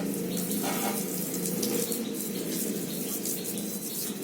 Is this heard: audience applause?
no